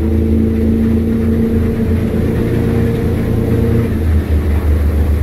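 Loud, steady drone of a Stabicraft 2500 aluminium boat's outboard engine under throttle, a strong low hum with a sustained tonal whine that holds for several seconds and then eases slightly, with heavy wind and water rush and no talking.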